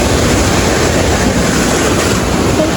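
Sea waves washing by the shore at a Pangasinan resort, a loud continuous rushing roar with wind buffeting the microphone, no talking.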